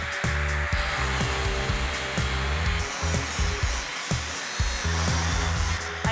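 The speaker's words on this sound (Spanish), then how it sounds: "voy a usar la amoladora con el disco de corte" An angle grinder with a cutting disc cuts into an old kitchen cabinet, a loud, steady high whine with a rhythmic low pulsing that stutters briefly midway as the disc bites into the wood.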